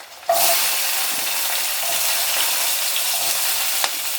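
Onion and tomato drop together into a hot pan, setting off a loud, steady broadband sizzle that holds evenly for several seconds, with a faint clink near the end.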